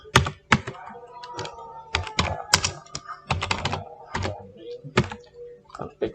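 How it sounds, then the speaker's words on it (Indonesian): A computer keyboard clatters as a command is typed into a network switch console, with irregular close taps and a few heavier thunks of keys being struck, with no talking. "Kita coba ketik show"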